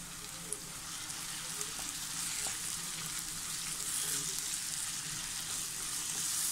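Chopped tomato being stirred into sizzling masala for a Thalassery chicken dum biryani, a steady close hiss of frying with occasional soft scrapes and taps running throughout.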